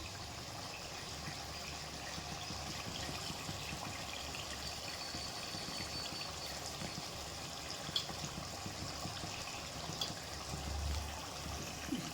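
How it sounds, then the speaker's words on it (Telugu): Tamarind water pours into a tomato curry as a continuous, even rush of liquid, steady and fairly quiet, close by, with no voices. "చింతపండు పోసుకున్నాం"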